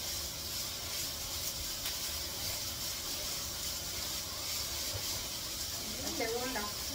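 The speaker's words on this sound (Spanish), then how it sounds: "el pollo, la pechuga de pollo. Vamos a sofreír" Chicken breast sautéing in a pan gives a steady, quiet hiss and sizzle that runs unbroken, with a brief voice near the end.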